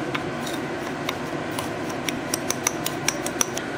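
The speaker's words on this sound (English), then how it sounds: "And just stir these cornstarch and the sugar." A utensil stirring sugar and cornstarch together in a bowl, small clinks and taps against the dish picking up pace toward the end, close and fairly clear with no talking.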